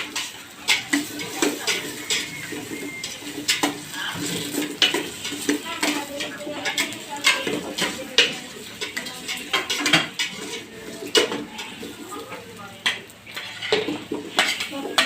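Potatoes go into a pan of dalag fish and fry with a constant sizzle, while a metal utensil stirs and scrapes the pan in busy, clattering strokes throughout.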